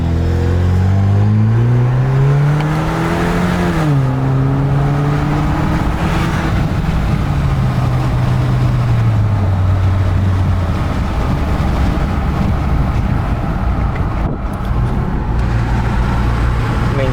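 A 2020 Jeep Wrangler fitted with an AFE axle-back exhaust drives along, its engine note steady and fairly loud, rising and falling through gear changes, with continuous road and wind noise from an open window.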